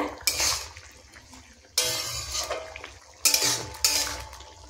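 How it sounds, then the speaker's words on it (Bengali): A metal spoon stirs fried eggs into a cauliflower and potato curry in a pan. Three bursts of clattering and scraping against the pan are separated by short quiet gaps. "এবার ডিমটা দিয়ে এটার সাথে ভালো করে নাড়াচাড়া করে"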